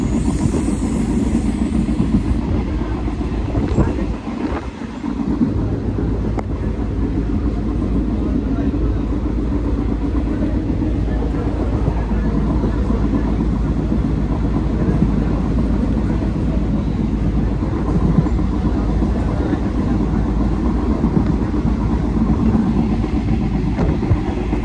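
Moving train ambience: a steady, loud low rumble of rolling wheels and engine that runs continuously, while a voice speaks softly over it.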